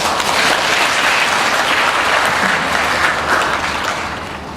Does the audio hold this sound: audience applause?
yes